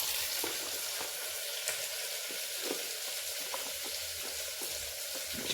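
Chopped tomatoes added to a hot pan and frying for tomato bath, a steady broadband sizzle with scattered stirring scrapes and clicks, close and continuous with no talking.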